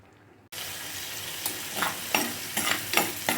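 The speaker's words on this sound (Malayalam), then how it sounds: "ചട്ടി അടുപ്പത്ത് വെച്ച് ചൂടാക്കി കഴിഞ്ഞപ്പോൾ എണ്ണ ഒഴിച്ച് വെളുത്തുള്ളി, ചുവന്നുള്ളി, ഇഞ്ചി, പച്ചമുളക്" Garlic, shallots, ginger and green chilli fry in hot oil in a pan for a kannimeen fish curry, a steady close sizzle with a few stirring scrapes that push it louder now and then.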